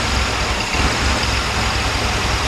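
A 1966 Corvair engine runs choppy and rough, burning rich, producing a loud, continuous close-up rumble with uneven low-end pulsing throughout.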